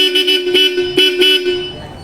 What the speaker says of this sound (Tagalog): dito nilagay ni Boss Mingo yung mga horns niya